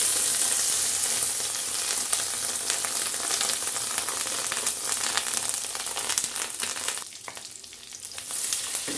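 Fish roe is lowered into hot oil with bay leaves, cardamom and cinnamon and sizzles loudly and steadily up close, easing briefly before rising again.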